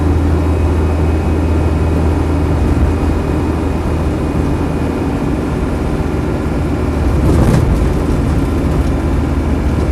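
A Land Rover Defender 90 with the 200Tdi diesel engine and knobbly off-road tyres drives along, giving a steady close-up drone of engine and road rumble that swells briefly near the end.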